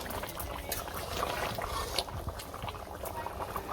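Chicken curry simmers in a pot on a village kitchen stove, giving off a soft, steady bubbling with small irregular pops, faint and close, with no talk over it.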